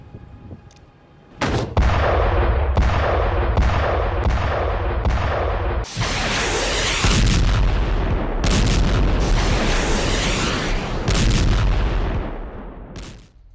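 An Iron Sting 120 mm precision mortar with laser and GPS guidance fires in the Shujaiya area of Gaza City. Loud, close booms come in quick succession and merge into a sustained rumbling barrage.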